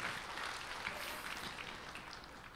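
A church congregation applauds during a sermon, a broad, even wash of many hands clapping at moderate volume that holds steady and fades slightly toward the end.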